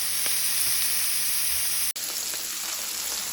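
Seasoned burger patties in a pan give off a loud, steady sizzle like hissing rain, broken by one short dropout partway through, with no talking.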